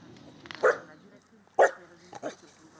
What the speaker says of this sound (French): Des aboiements pour interdire l'accès aux étrangers.